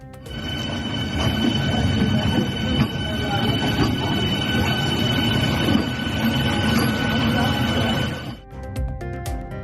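An AC electric suburban train on a test run at the Tambaram depot rumbles along with squealing wheels, loud and close, while a voice talks over it; the noise cuts off near the end.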